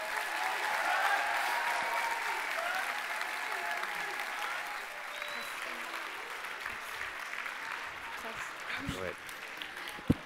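A large audience applauds Bishop Caggiano at a Youth Day 2019 event, a dense, sustained round of clapping that slowly tapers off over about ten seconds.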